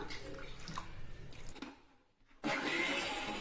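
A mixer grinder blends spice paste with tamarind water for curry leaf kuzhambu: a watery rush and shuffle first, a brief near-silent pause, then the motor kicks in with a loud, steady, close whirring roar.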